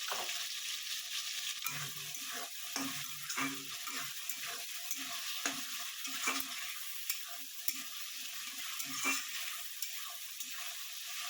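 Oil sizzles steadily in a pan with a constant hiss as slit green chilies fry, punctuated by clanks and scrapes of a spoon stirring; no one speaks.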